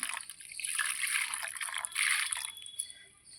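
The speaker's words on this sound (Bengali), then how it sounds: "এবার আমি ঠান্ডা জল দিয়ে ছেঁকে নেব, তাহলে ভিনিগারের গন্ধটা থাকবে না" Cold water trickles and splashes over freshly split chhana (cottage cheese) being rinsed in a bowl, a soft, continuous watery patter heard close but fairly faint.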